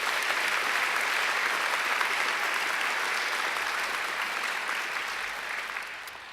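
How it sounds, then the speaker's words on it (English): Sustained applause from an audience at a university graduation ceremony, steady clapping throughout that begins to thin out toward the end. "I think they deserve a round of applause too."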